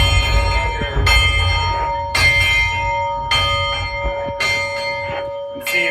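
A large locomotive bell at a railway museum clangs repeatedly at a steady, roughly one-second rhythm, each strike ringing out over a low rumbling background.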